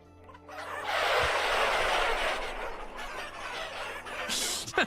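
Chickens clucking in the survival video game Vintage Story, a busy, dense flock sound that swells and holds steady throughout, with a brief sharper squawk near the end.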